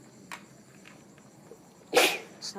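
A single sharp sneeze bursts out near the end of a quiet stretch, loud and brief against faint background noise, with no talking around it.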